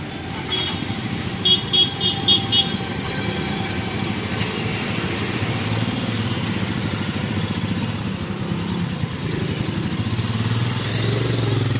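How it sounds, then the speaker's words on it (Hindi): An adventure motorcycle pulling away on a test ride, its engine droning steadily at mid distance with a few short horn-like toots early on and no talk. "बाइक आ गई है टेस्ट राइड के लिए"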